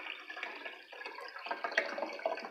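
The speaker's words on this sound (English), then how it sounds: "Let's add some more water." Water pours into a glass set up as a homemade water xylophone, a steady trickling fill with small splashy drips and faint glassy ringing, close and alone without voices.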